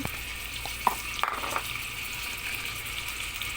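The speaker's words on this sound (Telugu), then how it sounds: "ఆయిల్ కాగింది ఇదిగోండి సరిపడా ఉల్లిగడ్డలు సరిపడ టమాటాలు" Onions and tomatoes fry in hot oil with a steady, soft sizzle and a few light clinks of a utensil, close by and without speech.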